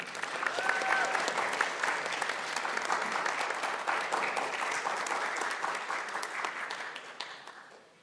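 Audience applause for the speakers at an international student graduation celebration in Wisconsin for the class of 2023. Sustained, dense clapping from a large crowd rolls on for several seconds, then tapers and fades.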